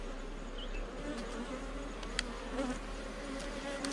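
Honey bees swarming during a spring beehive inspection, a continuous close droning buzz with a few louder passes near the microphone, and no speech.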